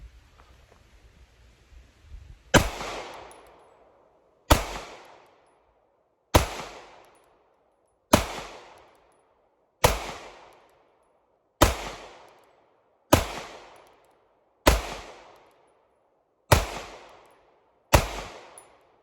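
Shots from a small Beretta pistol, ten sharp loud cracks spaced about two seconds apart, each ringing out and decaying with echo, with no talking between them.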